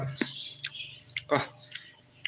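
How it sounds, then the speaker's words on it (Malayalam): Crisp crunching bites and chewing of a crunchy cake, close to the ear, a few distinct crunches with soft mouth sounds between them and a faint low hum underneath. "ഇതുപോലെ കടിച്ച് പൊട്ടിക്കുമ്പോൾ എന്ത് രസമെന്ന് അറിയാൻ വേണ്ടത്"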